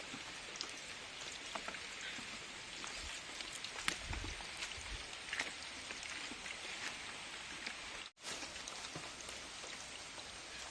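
Heavy rain pouring steadily in a forest, a dense continuous hiss with scattered close drops striking surfaces, unbroken for the length of the clip apart from a momentary dip.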